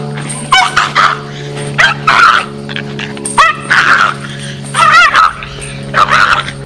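A Jack Russell terrier barks at a stuffed toy dog, close and loud, in repeated bursts of sharp yapping barks mixed with whines and growls, separated by short pauses over a steady indoor hum.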